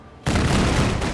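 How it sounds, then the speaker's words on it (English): Twin autocannons firing in the strategy game Menace, a sudden loud burst of rapid heavy shots after a short quiet moment, booming and sustained for about a second. "take one shot with the twin auto cannons here"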